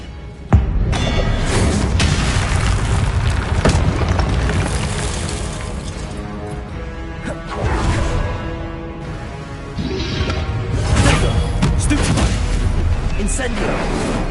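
Confringo blast spells in the game Hogwarts Legacy, cast in rapid combat with heavy booming explosive bursts that roll on continuously under a loud, dense mix of battle noise.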